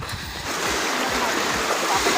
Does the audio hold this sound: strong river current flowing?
yes